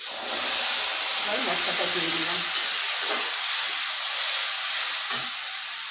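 A steady, loud hiss of spice paste frying in a hot pan with fried rice, with a voice speaking briefly over the sizzle.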